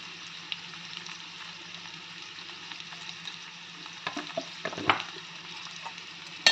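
Capsicum masala curry with salt added sizzles and fries in a pan, a steady close hiss with a few scraping stirs and soft clatter partway through.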